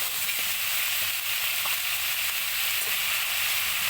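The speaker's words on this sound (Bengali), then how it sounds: "তারপর ভালো করে এটাকে কষাতে হবে।" Egg, potato and cauliflower curry sautéing in a pan with salt: a dense, constant hiss of frying oil, loud and close, with faint stirring taps underneath and no talking.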